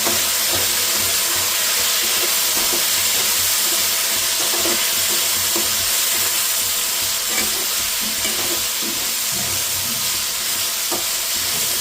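Turmeric stirred into potatoes and dried fenugreek leaves frying in a pan for a Gujarati sabzi: a steady, close sizzle with scraping, clattering stir strokes throughout and no talk.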